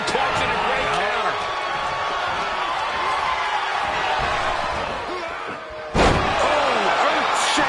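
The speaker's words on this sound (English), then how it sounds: "Oh, earth-shaking spine buster." A heavy spinebuster slam lands with a sharp thud near the end of a WWE 2K24 wrestling match on PS5, after a stretch of steady crowd roar and in-ring impacts.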